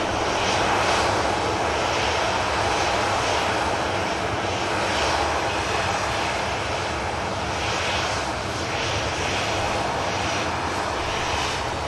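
A Ryanair airliner at an airport, engines giving off a loud, continuous roar with slow swells in intensity and no talking.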